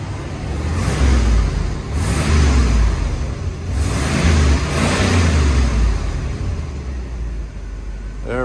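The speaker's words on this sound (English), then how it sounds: "Wanna rev it up a couple times?" A 1977 Chevrolet Corvette engine, just started cold, revs up a few times in swelling, rhythmic bursts over a steady close idle.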